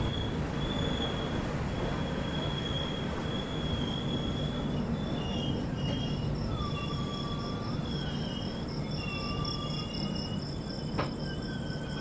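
The 15744 Farakka Express runs steadily on the tracks, with a continuous loud rumble of wheels and carriages, high thin wheel squeals drifting in and out, and a sharp clack near the end.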